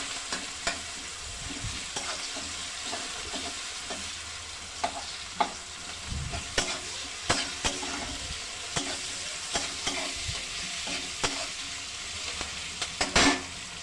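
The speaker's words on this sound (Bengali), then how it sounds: "পেঁয়াজটাকে আমি এইভাবে একটু লাল করে করে ভেজে নেব।" Sliced onions fry in hot oil in a pan, browning ahead of garam masala paste. A steady sizzle runs throughout, broken by frequent sharp scrapes and clacks of a spatula stirring, with no voices.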